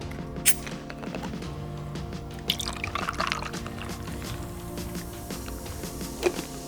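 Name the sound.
topping cocktail with club soda, pouring liquid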